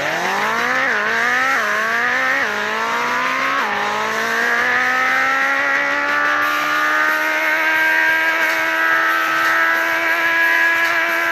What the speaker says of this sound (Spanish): Primero, freno de emergencia.